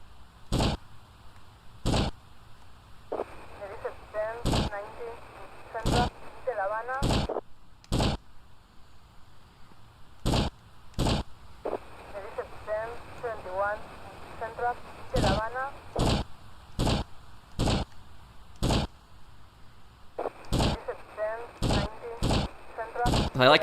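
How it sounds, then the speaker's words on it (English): Rapid-fire rifle shots from GTA Vice City ring out in loud, sharp cracks, spaced roughly a second apart and sometimes paired, over steady game ambience with a voice talking between bursts. "This is a pretty fast-firing rifle."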